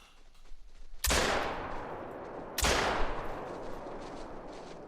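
Two loud, sharp 12-gauge buckshot shotgun blasts fired at a whitetail deer outdoors, each a sudden crack followed by a long fading rumble, spaced about a second and a half apart.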